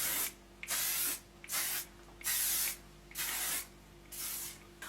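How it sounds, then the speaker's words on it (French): Makeup setting spray fires in five short, close hissing bursts, evenly spaced with brief silent gaps between them and no voices. "On va finir avec un spray fixateur parce qu'il faut quand même que ça tienne toute la nuit."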